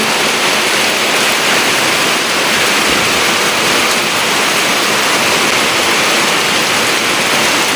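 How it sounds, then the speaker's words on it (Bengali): Heavy rain pours steadily over a village garden, a dense, even hiss close by with no letup and no voices. "আপনাদের সাথে কথা কইতে কইতে কি জুড়ে বৃষ্টি নেমে পড়ছে দেখেন, অনেক জুড়ে বৃষ্টি পড়তেছে"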